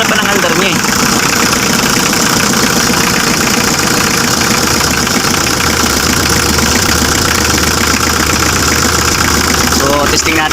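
A Mitsubishi L300 FB engine runs steadily after a clutch replacement, a loud continuous idle with a mechanical rattle heard close up, and someone speaks over it.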